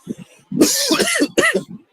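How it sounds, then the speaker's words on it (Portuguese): A cough followed by throat clearing, close and loud, in two quick bursts with brief pauses, no talking. "De vez em quando eu vou tossir"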